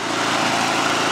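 An old SABO lawn mower engine, restarted after sitting unused for years, runs loud and steady at close range with a continuous rough buzzing drone and no voices.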